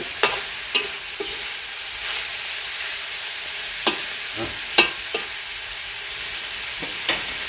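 Eel is stir-fried in a spicy herb paste with ginger and lemongrass, a loud, close hiss of frying broken by repeated sharp scrapes and taps of a spatula against the pan.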